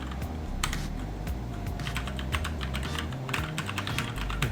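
Typing on a Keychron K4 mechanical keyboard: a steady, rapid run of crisp key clicks and clacks, close up and continuous with no voices.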